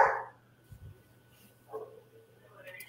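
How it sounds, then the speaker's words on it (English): A single dog bark sounds at the start, followed by a couple of softer yips or whines further off, all faint in the background of a quiet indoor room. "the dog said yes in the background"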